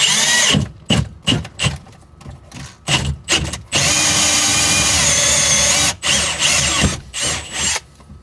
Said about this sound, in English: And drill a hole for a second one right here.